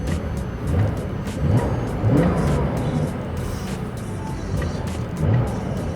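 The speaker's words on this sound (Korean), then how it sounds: "중립에 놓고 엔진을 좀 돌려보면" A new Porsche 911 (992) engine revs repeatedly in neutral in short bursts, rising and falling several times, loud and nearby with no speech.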